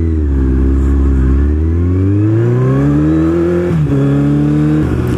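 A 1000cc motorcycle accelerates hard and loud up close, its engine note climbing steadily before dipping briefly at each of two quick gear shifts and climbing again.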